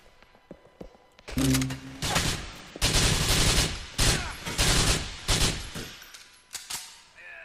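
Gunfire in GTA IV, several loud short bursts in quick succession after a quiet start, each burst a tight cluster of sharp shots with brief pauses between, followed by a few scattered single cracks.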